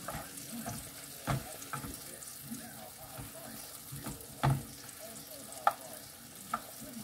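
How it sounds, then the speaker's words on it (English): Chunky mushrooms frying in butter for a full cooked breakfast, a low soft sizzle broken by a few distinct scrapes and knocks of a utensil being stirred through the pan, fairly quiet with no voices. "So mushrooms are going good. Just stir them occasionally"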